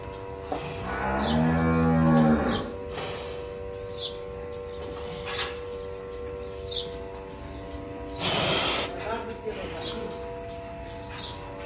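Hasha and Holstein Friesian bulls lowing in a cattle line-up, one long loud close moo followed by a second strong call later, with small birds chirping faintly throughout.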